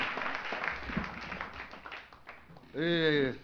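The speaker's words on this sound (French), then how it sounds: "On nous applaudit, Seigneur, pour accueillir pasteur Nicolas Hippolyte." Audience applause welcoming pastor Nicolas Hippolyte at a church gathering, a dense spread of clapping through most of the moment before a voice breaks in at the end.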